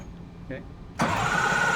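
A limited hydroplane racing boat engine fires up abruptly after a quiet moment and settles straight into a loud, rough, steady run close by. A brief voice is heard just before it starts.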